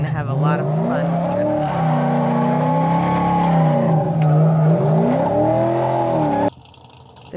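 A drift car spins donuts, its engine roaring continuously with rising and falling revs and tire squeal for about six seconds, then cutting off abruptly to a much quieter background.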